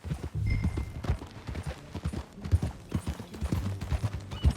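Horse hooves clip-clopping at a steady riding pace in the video game Red Dead Redemption 2, fairly close, with low rhythmic thuds and a brief whinny-like tone early on.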